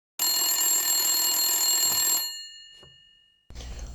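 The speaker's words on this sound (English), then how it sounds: "I should really answer that phone." A telephone rings in Blacksad Under The Skin, the video game: one loud, sustained electronic ring lasting about two seconds, which then fades away and is followed by a soft clunk and low background noise.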